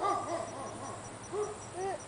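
Small puppy giving a few high yips and barks at home, faint and spaced out, with soft whimpering tones between them.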